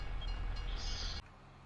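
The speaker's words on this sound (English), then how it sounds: "There goes the train." A train in a farming video game rolls past with a steady rumbling drone and a brief higher whine, ending abruptly as the sound cuts to quieter background.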